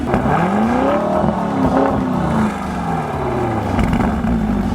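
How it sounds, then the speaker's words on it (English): A Lamborghini Urus SUV engine roars and revs continuously, loud, its pitch sweeping up and down as it accelerates close by. "Listen to that engine roar. It just sounds phenomenal."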